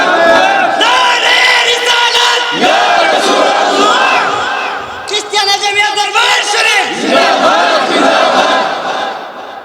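At a large religious gathering, a crowd chants a slogan together. The massed voices rise and fall loudly and fill the space.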